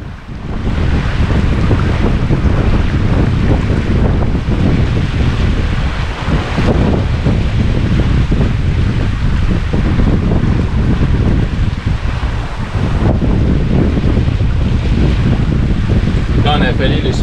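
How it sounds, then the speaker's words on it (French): A sailboat's bow shoves through water as the wind strengthens, with a constant loud rush of wind across the microphone and churning water throughout. "les remous créés par la proue, repoussant une belle masse d'eau avec facilité"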